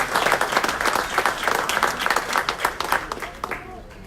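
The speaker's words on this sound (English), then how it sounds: "Big round of applause for everybody else for Ward 2" Audience members at an Aurora city council meeting clap in a brisk round of applause, many close hands striking at once before thinning out toward the end, with voices speaking over it.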